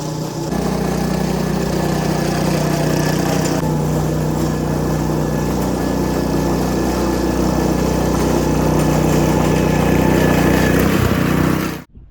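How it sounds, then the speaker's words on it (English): A plugger lawn aerator's small engine runs loud and close with a constant droning hum for about twelve seconds, then cuts off abruptly at the end. "those first few clips of my plugger aerator"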